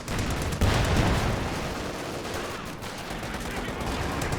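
Tank cannon fire in the Company of Heroes 2 World War II strategy game, a StuG and Sherman trading shots; one heavy boom early, then a lingering rumble and crackle of battle at moderate level.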